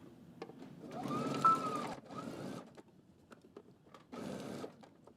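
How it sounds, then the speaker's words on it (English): Home sewing machine stitching a coat for a Simplicity pattern, running in three bursts of rapid whirring stitches of about a second each, separated by quiet pauses and light handling clicks, close and fairly soft. "let's head over to the machine, and we're going to stitch all the way around"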